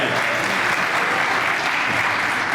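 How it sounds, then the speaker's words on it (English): An audience at a political speaking event claps steadily, a continuous dense round of applause at even loudness for the whole stretch. "let's round of applause"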